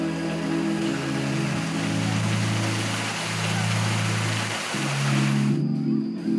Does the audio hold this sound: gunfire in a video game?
no